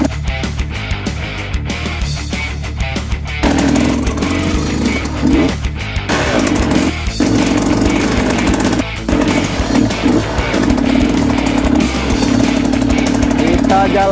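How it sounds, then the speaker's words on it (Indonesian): A Naro ND 150E trail motorcycle rides through an avocado orchard in Lampung, its engine droning steadily with rattling and jolts throughout, rising in intensity partway through. "Jalan-jalan keliling kebun, kontrol kebun menggunakan motor Naro."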